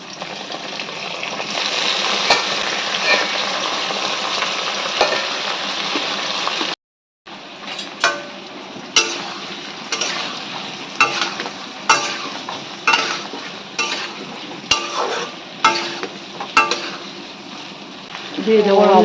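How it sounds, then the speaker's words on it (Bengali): Potatoes fry in a pan with a constant sizzle, broken by repeated scraping stirs and clinks of a spatula against the pan, with a brief silent gap partway through. "আলু দুটোই ভাজা ভাজা হয়ে গেছে"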